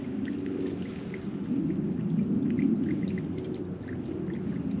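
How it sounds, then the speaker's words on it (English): Water steadily pours and splashes from an Asian-style garden water feature with a small Buddha statue at a botanical garden in Florida, a continuous close rushing flow that swells slightly midway. "They have that Asian water feature. Fills up and then falls down."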